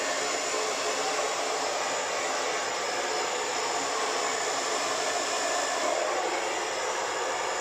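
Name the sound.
hair dryer blowing acrylic paint colors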